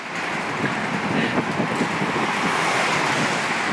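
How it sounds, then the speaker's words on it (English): Strong wind roars steadily across the microphone on a bridge in Tokyo, Japan, in a broad rushing wash, with a faint hum of distant traffic underneath and no voices. "it's loud, it's windy."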